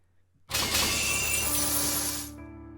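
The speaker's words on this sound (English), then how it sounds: "The chains are broken." A sudden loud crashing shatter of chains breaking in the video game Fate/Stay Night UBW, a bright metallic-glassy smash that rings for about two seconds, then fades to a faint hum.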